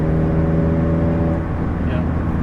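A 2016 Mazda MX-5 Miata RoadsterSport with a race exhaust at full throttle gives a loud, steady engine drone heard from inside the car, its tone holding level with a slight dip midway.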